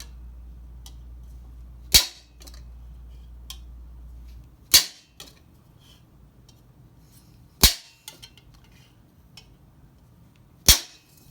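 A hammer drives a chisel held at an angle against an old steel close helmet, making four sharp, ringing metallic strikes spaced a few seconds apart, with near silence between them.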